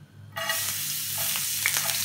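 Vegetables hitting hot oil in a pan for pancit canton, a loud sudden sizzle that holds steady as a continuous frying hiss, with a few faint clinks of stirring.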